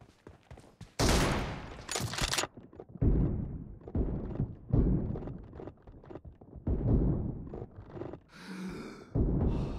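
Bursts of gunfire in a shooting video game, with a sharp loud volley near the start followed by choppier shots and thuds, and a faint gasp or breath among them.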